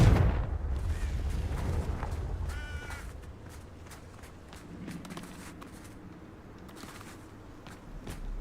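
A Confringo fire spell from a Harry Potter video game lands as a deep booming blast at the outset, its rumble fading over the following seconds, with scattered crackling impacts and faint thuds trailing off.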